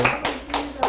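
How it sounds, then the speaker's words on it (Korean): Members of a church gathering clap in quick, even rhythm, about four sharp claps in under a second, close by and mixed with voices. "박수."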